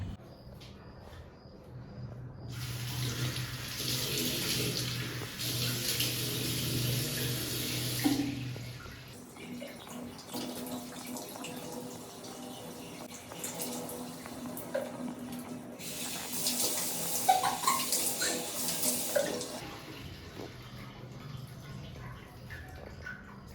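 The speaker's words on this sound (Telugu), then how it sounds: "ఇప్పుడైతే మనం వెళ్ళి ఫేస్ వాష్ చేసుకొచ్చేద్దాం" Tap water running into a sink for washing the face, two faint stretches of flowing water with splashing between them, quiet and slightly distant, with occasional soft movement sounds.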